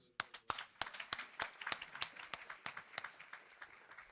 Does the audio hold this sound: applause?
yes